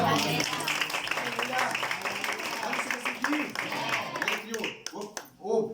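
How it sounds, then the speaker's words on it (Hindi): A church congregation at a worship service in Janjgir Bhata Para claps together in a busy, rapid patter while a preacher keeps talking over it. "ताली बजाएंगे"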